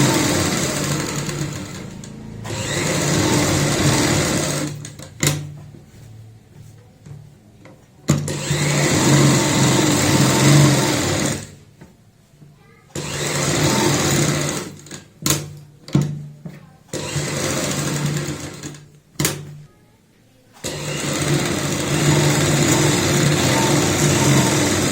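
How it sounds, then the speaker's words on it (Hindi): Sewing machine running in several long stitching bursts along the outer side of a neck design, topstitching over an existing seam, with short pauses and clicks between runs; no talk. "अब हम बाहर की साइड भी ऊपर से सिलाई लगाएंगे।"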